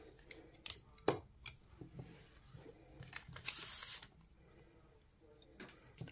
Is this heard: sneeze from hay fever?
no